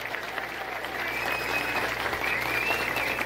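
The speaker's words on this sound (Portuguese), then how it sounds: "de palmas pra esse cara." Steady applause from an audience at a political gathering, a dense even wash of clapping that swells slightly after the first second and holds at a moderate level.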